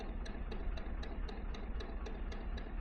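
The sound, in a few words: boat engine running at canal tick over speed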